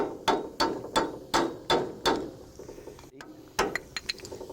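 Sharp, regular hammer taps knocking off a trailer wheel bearing cap (bearing buddy), about eight metallic blows in a steady rhythm, followed by lighter clinks.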